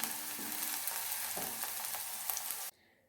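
Chillies sizzle in a hot pan for dried prawn chutney, a dense, bright frying hiss with small crackles and spatula scrapes that runs steadily, then abruptly falls away near the end.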